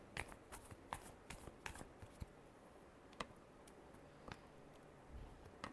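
Tarot cards riffled and shuffled by hand, a soft run of papery clicks and flicks close by, quiet and without talk.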